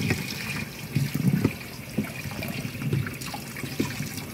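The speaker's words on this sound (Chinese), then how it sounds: "倒水进去，慢慢倒，然后一直搅，一边倒一边搅" Cold water poured slowly over tapioca pearls in a draining basin while being stirred, a continuous splashing trickle with intermittent swishes, fairly close, no talk.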